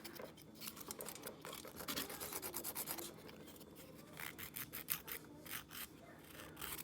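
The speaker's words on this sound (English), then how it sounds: "So I am just going to file and try to get it every angle." A nail file rasps back and forth across acrylic nails in quick, faint, rhythmic strokes, close up and steady, with no voices heard.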